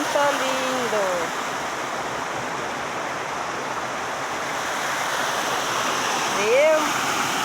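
Waterfall on a farm pouring steadily as a broad, constant rush of water close by, with brief voice sounds near the start and again toward the end.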